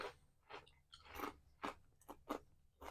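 Close, crisp crunching of chips being chewed in irregular bursts, each bite loud and brittle against a quiet background.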